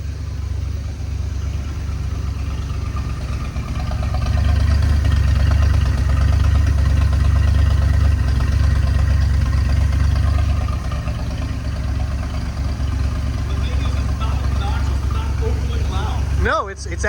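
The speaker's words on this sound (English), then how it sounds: "That thing idles so smooth." An old Dodge police car engine idles smoothly with a deep, steady low rumble, swelling slightly louder in the middle before easing back, with a brief clatter at the very end.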